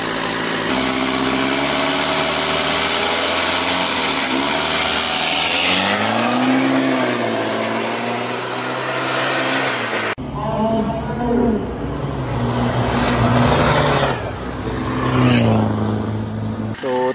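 Diesel pickups and SUVs, including a Strada and a D-Max, roar through a drag diesel shootout with loud revving engines rising in pitch, a second run following, and crowd voices underneath.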